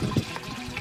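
Desi jaggery drops into a drum of water, making a brief, close splash and slosh of liquid lasting under a second, with no one speaking.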